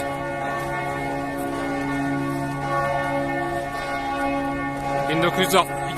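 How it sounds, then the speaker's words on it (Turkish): Church bells ringing continuously with a rich, sustained metallic hum, while a voice speaks faintly beneath them near the end. "Öyle saati olduğumuz için çan saatlerini duyabiliyorsunuz, çan seslerini duyabiliyorsunuz"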